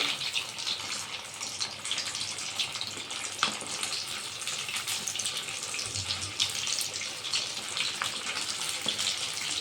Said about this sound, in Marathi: व्यवस्थित तळे जातील आपण चारच वडे टाकलेले आहेत